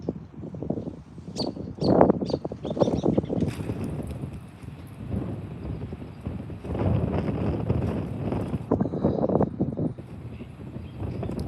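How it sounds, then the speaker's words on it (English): Strong, cold wind gusts buffet the microphone outdoors at a golden eagle nest watch, a loud, continuous rushing roar that swells and eases throughout. "The wind is really picking up."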